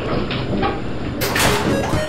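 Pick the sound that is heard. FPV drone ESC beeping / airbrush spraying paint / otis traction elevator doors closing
otis traction elevator doors closing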